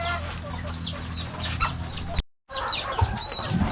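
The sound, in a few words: native chickens clucking outside at feeding time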